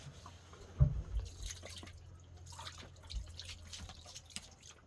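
Water trickles and drips in an irregular pattern, faint and close, with a few louder splashes and only a low background murmur.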